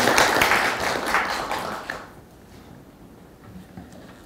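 Meeting attendees in a conference room applaud with a burst of clapping that fades out after about two seconds, leaving a quiet room.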